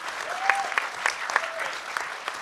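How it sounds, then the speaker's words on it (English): Audience at a hackerspace-building panel at the Last HOPE hacker conference applauds the panelists, a steady moderate patter of many hands clapping together at a fairly close distance for a couple of seconds. "let's give a huge round of applause to all these panelists for staying under 2 minutes largely."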